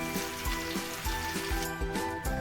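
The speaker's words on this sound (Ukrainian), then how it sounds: "Цибулю буду тушкувати до м'якості. Мені не потрібно її золотити, мені потрібно її обсмажити до готовності." Onion softening in a pan for a liver salad, a close, continuous wet sizzle with regular soft thumps of stirring and a faint tone running underneath.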